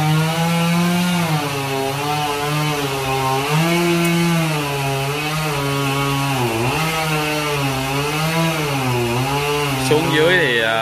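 A chainsaw cuts through a massive Ba Dau tree trunk, its wide girth slowing the cut. The engine drones loud and close without a break, its pitch sagging and recovering as the chain bites under load.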